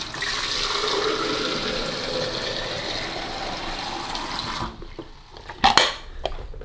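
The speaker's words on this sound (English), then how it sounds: "we need to put fresh water in it and let it run through" Water from a Delonghi Dedica espresso machine rinses with a continuous splashing rush, then stops abruptly and gives way to a few close clinks and knocks of handled parts.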